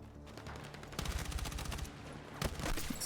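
Rapid bursts of gunfire from an M4 rifle in the video game Battlefield 6, loud and close, with dense volleys from about one second onward and a second flurry near the end.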